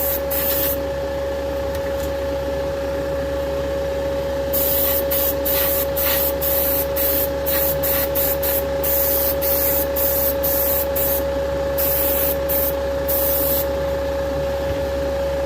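A spray gun lays down a first coat of paint on the hood of a 1969 Dodge Charger, its hiss coming in a string of short bursts over a steady compressor hum, close and loud.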